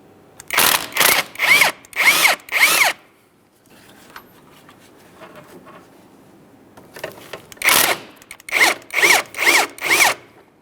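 Power tool working 14 mm bolts loose from the upper engine mount of a 2007-2013 Acura MDX, two close, loud bursts of four or five rapid ratcheting pulses each, separated by a quiet pause.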